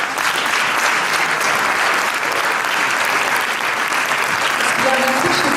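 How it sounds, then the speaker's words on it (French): Loud, sustained audience applause at an animation film festival, welcoming young jury members to the stage, with steady dense clapping throughout and no break. "accueillez s'il vous plaît en les applaudissant bien fort"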